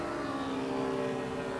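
A model airplane engine during takeoff, a steady buzzing propeller drone with strong sustained tones, fairly faint and continuous.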